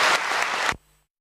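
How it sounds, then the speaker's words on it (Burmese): An audience applauds to welcome a speaker onto a stage at an event: a short, dense burst of clapping that stops abruptly after under a second. "ကျွန်တော်တို့လက်ခုပ်လက်ဝါးတီးပြီးတော့ကြိုဆိုလိုက်ကြအောင်ခင်ဗျာ"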